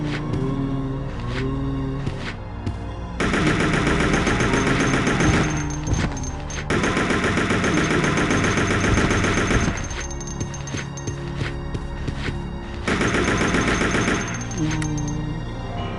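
Rapid bursts of AK rifle fire in Resident Evil Code: Veronica X, loud sustained automatic volleys in several long stretches, broken by short pauses and backed by continuous game music.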